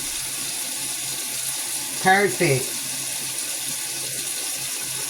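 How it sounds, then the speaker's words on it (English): Kitchen faucet water runs steadily into a sink to rinse out a bowl, a constant hiss throughout, with a brief spoken word partway through. "Cut the water back on so I can wash it out."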